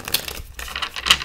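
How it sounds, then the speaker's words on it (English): Tarot cards are shuffled by hand close up, giving quick papery riffles and soft slaps in an irregular rapid pattern, with no talking. "so couple more shuffles"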